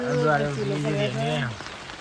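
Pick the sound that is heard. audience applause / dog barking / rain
rain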